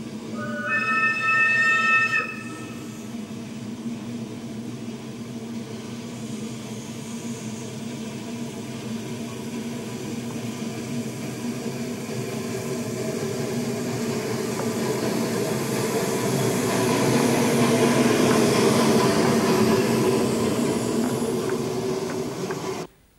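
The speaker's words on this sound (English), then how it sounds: "The sun slowly penetrates the early morning mist as wagons are marshalled for the day's traffic" A steam locomotive marshals railway wagons in early-morning mist at an Eastern European or African railway, giving a steady low rumble and hiss that slowly swells louder, with a brief high whistle-like tone at the very start.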